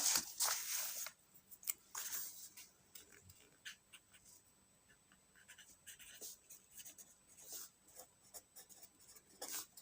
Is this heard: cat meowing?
no